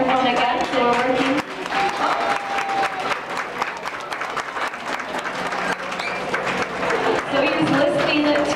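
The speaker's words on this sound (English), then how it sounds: "go ahead and give him a round of applause so he knows that what he's doing is good" A crowd claps loudly to reward a trained dolphin during a training show, the applause running steadily from start to end while a person talks over it and brief high tones cut through.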